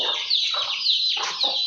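A hen clucks several times in quick succession, close by and clear, with no talking.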